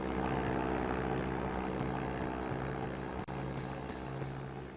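A plane's engine drones in The World is Not Enough, a loud, constant propeller hum that stays steady and close throughout, without any voices.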